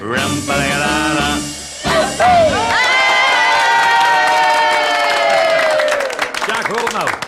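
A loud live audience cheers and claps, with sustained shouted and sung voices rising over a continuous roar of the crowd.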